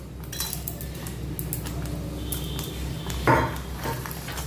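A spoon scrapes and clinks in a pan while spices are mixed into a paste for shahi paneer, with soft stirring and one louder metallic knock partway through, quiet and without talking.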